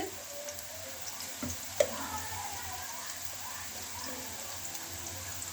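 Spices and salt with turmeric, chili, cumin and garam masala sizzling in a pan for a sour cauliflower-stalk dish, a steady soft fry with faint stirring ticks and one brief sharp clink near the middle.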